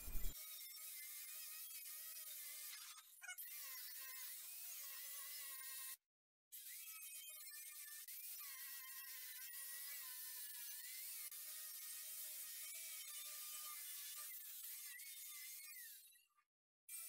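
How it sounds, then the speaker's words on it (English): Fine Scotch-Brite wheel cleaning up metal for a metal and wood flag art build, a steady whining abrasive hiss with wavering pitch, broken by a couple of brief stops, close and fairly quiet, no voices. "A little bit more clean up here with just a fine Scotch-Brite wheel."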